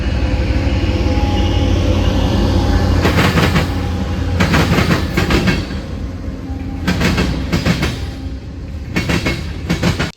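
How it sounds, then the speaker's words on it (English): A heavy eastbound mixed freight train rumbles steadily past at close range in Chicagoland, with wheels clattering over rail joints in repeated bursts and a constant low roar. "this first one being an eastbound mixed freight."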